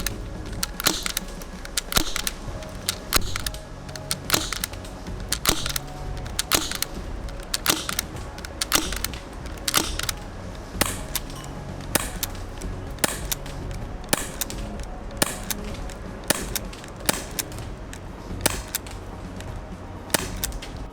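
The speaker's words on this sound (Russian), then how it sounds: "Ради интереса мы решили сравнить, как стреляет PM2 и МК-23 Соком без глушителя." PM-2 and MK-23 SOCOM airsoft pistols fired without a silencer, a long series of sharp, snappy single shots at steady intervals, close and clear with faint clicks between them and no talking.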